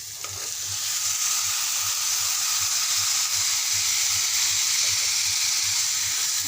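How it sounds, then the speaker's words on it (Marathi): Boiled mixed vegetables are stir-fried in a hot pan, giving a steady, loud sizzle and hiss with a soft rhythmic scraping and stirring underneath throughout, and no voices. "आता छान मस्त खालवरपर्यंत असं परतून घेणार आहे एकजीव होईपर्यंत"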